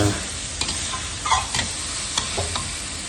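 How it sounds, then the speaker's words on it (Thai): Carrots are stir-fried in a pan for yellow noodles, with a close, constant sizzle broken by several sharp spatula clanks and scrapes as the pieces are tossed. "หลังจากนั้นก็ใส่แครอทลงไปเนาะ ว่าให้แครอทสุกก่อน"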